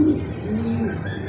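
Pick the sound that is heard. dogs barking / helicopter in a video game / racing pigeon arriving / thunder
racing pigeon arriving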